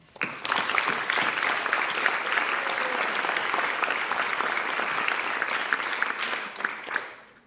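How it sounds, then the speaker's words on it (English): A large audience at a high school senior honors night bursts into sustained applause, a steady roar of clapping that holds for several seconds before tapering off. "Please join me in a round of applause for great organizations and the presenters who are here this evening."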